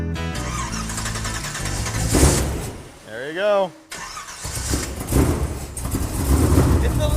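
A car engine cranks and then starts after sitting unused for about two years. The car has a 4-inch exhaust with bullet mufflers, and it settles into a loud rumbling idle with a brief squeal. A person speaks briefly around the start.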